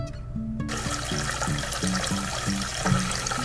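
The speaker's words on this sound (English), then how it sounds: "Turn on the water." Water runs steadily from a bathtub tap in the Toca Life World game, a continuous splashing rush under a light, repeating musical backing.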